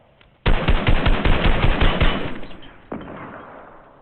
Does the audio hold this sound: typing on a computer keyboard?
no